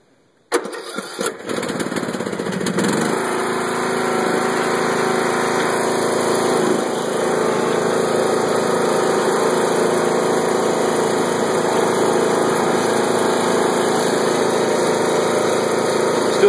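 A Craftsman lawn tractor engine cranks briefly, catches after a couple of seconds and then runs loud and steady at a constant idle with a droning hum close to the microphone.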